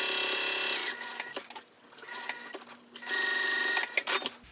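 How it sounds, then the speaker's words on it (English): A sewing machine stitches along a drawn line on a crossbody bag in quick rapid bursts, pausing twice briefly before running again, close and fairly quiet. "Now what I'm doing is I'm just sewing directly on that line that I drew."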